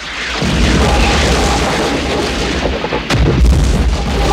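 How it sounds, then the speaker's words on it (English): A grenade blast from the 1979 war film Apocalypse Now rolls out as a loud, deep boom with a heavy rumbling roar, followed by a second sharp thump and more rumbling. "She threw a whole grenade in there."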